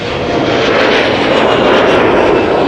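An Airbus A380 jet airliner, nine years in service, takes off at Amsterdam Schiphol with a loud, steady broadband engine roar that fills the whole stretch without letup.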